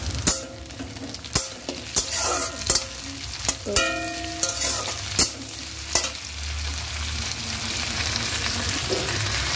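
Tomato is added to browned onions in a hot pan and sizzles throughout, with repeated stirring, clinks and scrapes of a spoon against the metal. A low, steady frying hiss continues after the stirring stops.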